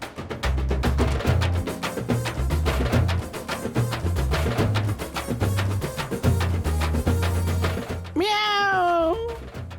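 A cat gives one clear, drawn-out meow near the end, heard over loud rhythmic background music.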